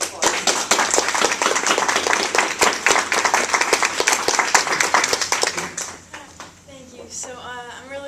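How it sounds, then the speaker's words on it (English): Audience at a county board of education meeting applauding an honoree, crisp close hand claps in a brisk burst that thins out, then a voice begins speaking. "let's give her a round of applause"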